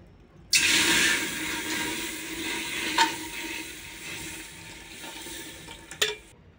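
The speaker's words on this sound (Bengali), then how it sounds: "এবার হাঁড়িতে ভিতরে কিন্তু দুধ দিয়ে দিচ্ছি" Milk pours into a cooking pot with a steady hissing splash that starts abruptly and tapers off, with a couple of light clinks.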